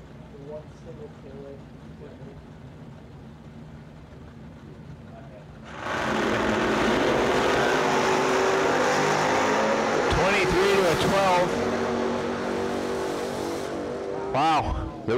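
Drag race cars from an ACE Triple 20K's event launch side by side: a quiet idle-level stretch gives way to a sudden, loud, sustained engine roar that lasts to the end, with a voice talking underneath.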